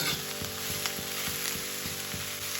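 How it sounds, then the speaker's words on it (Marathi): Onions roast in hot oil in a pan for homemade kala masala, giving a steady close sizzle with a regular series of soft scraping stirs. No one speaks. "कांद्याला चांगलं हलवत राहायचं म्हणजे कांदा जास्त काळा वस्तू भाजायचं"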